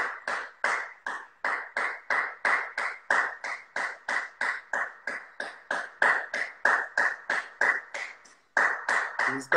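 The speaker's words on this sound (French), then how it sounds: "J'espère que tous les Français ils sont en train d'applaudir en ce moment." Rhythmic clapping outdoors at 8 pm, a steady even beat of single claps repeating about three times a second, distant and moderate in level, briefly pausing near the end before resuming.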